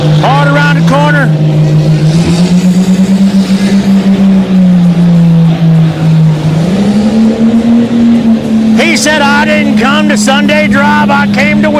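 Big mud bog truck engine at a deep-mud track, a loud sustained drone rising and falling as it revs hard around the course, with an excited announcer talking over it throughout.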